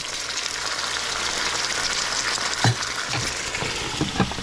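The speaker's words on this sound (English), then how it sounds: "the water is going to make it bubbly and splash" Loud, steady sizzling as water hits hot frying oil in a pan of pot stickers, with a few bumps and knocks near the end as something is moved in the pan.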